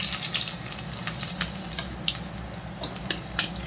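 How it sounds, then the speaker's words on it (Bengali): Chopped garlic sizzles in hot oil with cumin, a steady crackling fry with occasional sharper pops, close and moderately loud. "এখন দিয়ে দিচ্ছি রসুন কুচি।"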